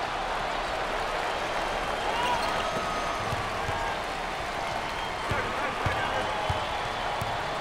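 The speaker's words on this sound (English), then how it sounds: "Well, listen to those fans. The crowd is thunderous." Basketball arena crowd at an ACC tournament semifinal between Georgia Tech and North Carolina, a dense, continuous roar of cheering fans with faint bounces and shouts.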